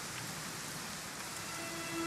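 Steady rain falling in the video game Dragon Quest XI, a dense even hiss of drops that stays level and close throughout, with no voices.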